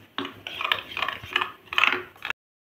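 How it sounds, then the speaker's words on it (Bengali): A spoon stirring a masala spice paste mixed with yogurt and water in a bowl, five or six close scraping, clinking strokes in a steady rhythm, then abrupt silence. "এতে অল্প করে জল দিয়ে এটা আমি ভালো করে মশলাটা মিশিয়ে নেব।"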